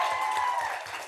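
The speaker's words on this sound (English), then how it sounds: "please a round of applause for Mr. Grant" Brief burst of audience applause at a reception, a dense continuous clapping wash with a faint tonal hum running underneath, moderately loud for about a second.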